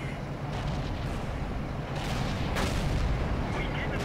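A tank gun shell bouncing off armour near a commander's hatch in World of Tanks, a T20 medium tank firing; dense booming rumble with sharp bursts around the middle, loud and continuous.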